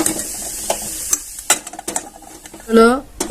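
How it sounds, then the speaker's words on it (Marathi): A coconut and jaggery filling is stirred in a pan over a low gas flame, with busy scraping and clacking strokes over a light sizzle and a brief squeak near the end. "कमी गॅसवर छान असं मिश्रण एकत्र करून घ्यायचं आहे"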